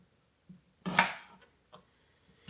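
A single crisp knife stroke slices through an onion on a board, one sharp chop standing out clearly, followed by a couple of faint taps in a quiet room.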